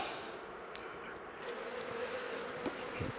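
Honeybees buzzing around an opened hive, a soft steady hum of a modest number of bees with a few closer passes, continuous and without speech.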